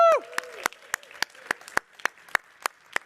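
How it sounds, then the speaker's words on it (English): After a brief voice at the start, applause for a hotel staff team at a venue event sounds as a run of about ten crisp, regularly paced claps, moderately close in an otherwise quiet room. "Let's give a round of applause for the Fontainebleau team."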